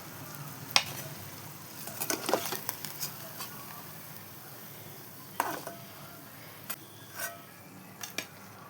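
A snack of maida, egg and curd batter fries in hot oil, a soft steady sizzle broken by occasional sharp clinks and scrapes of a utensil, close by and without talk.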